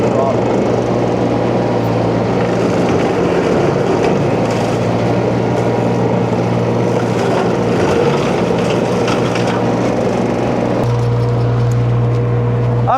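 Huayee LHY680 mini skid steer fitted with a brush cutter, its engine roaring loud and continuous, then shifting to a higher, steadier drone near the end as the throttle comes up.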